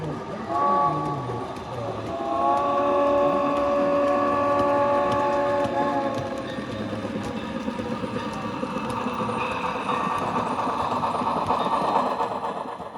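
A SoundTraxx Blunami sound decoder in a model railroad produces a locomotive sound, with horn-like tones and a rolling, rumbling clatter that continues steadily at moderate volume.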